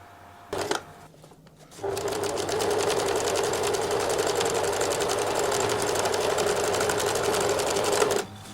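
A sewing machine, sped up, top stitches around a fabric tab in a long, steady, close hum of rapid stitching. A few brief mechanical knocks come first, and the motor stops abruptly near the end.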